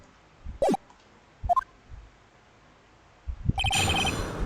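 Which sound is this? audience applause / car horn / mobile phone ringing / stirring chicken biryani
mobile phone ringing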